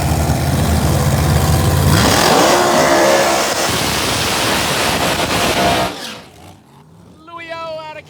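A Pro Mod drag racing car with a Roots blower roars at Empire Dragway, a loud sustained engine blast that rises in pitch and then fades away, with an announcer talking over it.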